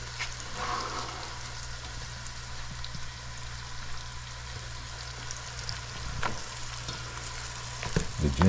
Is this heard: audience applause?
no